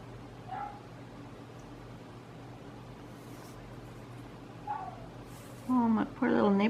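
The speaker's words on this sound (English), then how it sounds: "my poor little neighbor dog, he's not happy. Don't know if you can hear him. He's out there kind of crying." A neighbor's small dog crying and whining outdoors: a few faint, high whimpers in the distance over steady background noise, with a couple of louder whines near the end.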